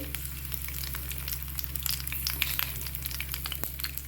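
Green chilies fry in hot oil with crackled mustard seeds for a raw mango roast, a continuous close sizzle with spattering pops over a steady low hum.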